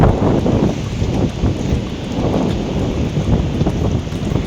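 Strong wind blows outdoors in a loud, continuous roaring buffet close to the microphone, gusting without pause, with no voices.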